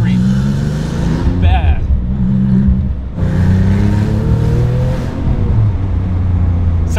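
A 777 hp Porsche 997 GT2 engine rumbles and revs loudly up close in 5-degree weather, pitch climbing and dropping through the run with a brief dip around the middle.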